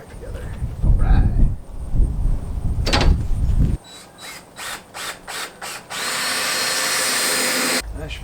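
A drill drives screws into a wooden chicken run door, with short repeated whirring pulses followed by a longer steady spin, after some nearby clattering and handling thumps at the start.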